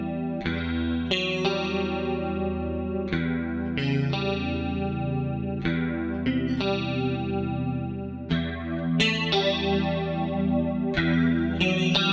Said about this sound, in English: Start off with the Dimension chorus.